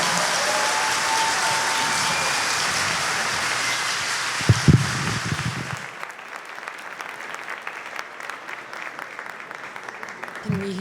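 A crowd claps loudly for performers at a public event, dense sustained applause with a few whoops and calls that thins out halfway into scattered, fading claps.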